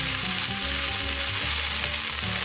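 Chicken in bulgogi or teriyaki sauce cooks down in a pan with a steady, close sizzle and bubbling frying noise as the liquid reduces, and no voices over it.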